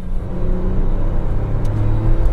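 A Tata Nexon 2022 XZ+ manual petrol engine revs hard near 6000 RPM during wheel spin, a loud, steady, close roar with a deep rumble that climbs slightly toward the end.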